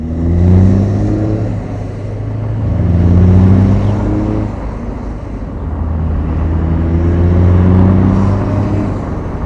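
A Cummins-powered semi truck pulls hard through its gears, the deep engine drone rising and falling in loud, close surges with each shift and no talk over it.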